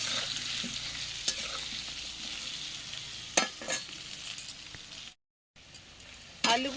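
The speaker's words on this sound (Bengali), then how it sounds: "লবণ দিয়ে দিচ্ছি আর হলুদ দিয়ে দিচ্ছি দিয়ে ভালো করে লাল লাল করে ভেজে নেব" Food fries with salt and turmeric in a clay pot, giving a soft steady sizzle with a few sharp scraping stirs, a brief gap of silence, and then a final stir.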